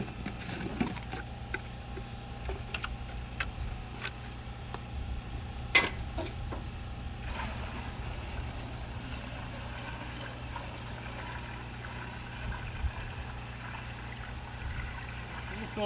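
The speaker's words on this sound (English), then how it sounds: "Now in goes my water." Water pouring and trickling into a gravity-fed outdoor shower tank, a soft continuous flow with a low hum underneath and occasional clinks and knocks, no talking.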